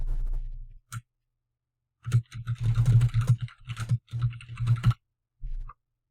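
Bursts of clicky keyboard typing on a computer, entering an email subject line, with rapid uneven keystrokes in several runs separated by brief pauses, close and moderately loud.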